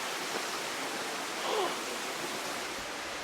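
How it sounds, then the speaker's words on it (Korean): Gwaneum Falls on Naeyeonsan mountain in Korea gives a steady, dense rush of falling water that fills the whole scene evenly, with no breaks. "6번 관음폭포"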